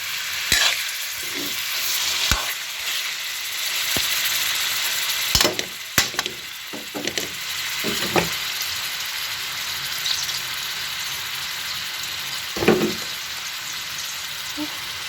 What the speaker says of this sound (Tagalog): Giniling yung gagamitin ko. Piniprito ko sa konting mantika.